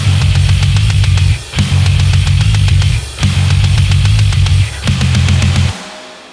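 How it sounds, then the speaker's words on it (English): Distorted metal guitars with bass run through an amp sim and heavy OTT compression, loud and tight, in four repeated chugging phrases separated by brief dips, cutting off near the end. "So now this is what it sounds like with the bass."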